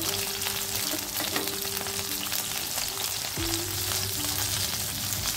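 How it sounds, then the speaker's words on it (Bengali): Water lily pieces coated with turmeric and salt frying in hot oil, a loud dense continuous sizzle and crackle close by, with a steady low tonal hum underneath and no voices. "শাপলা ভাজতে বেশি সময় লাগে না"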